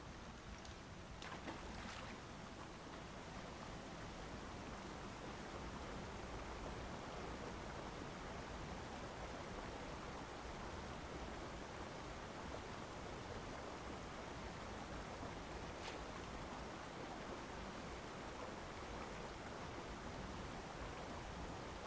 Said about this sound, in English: Waterfall splashing over my head.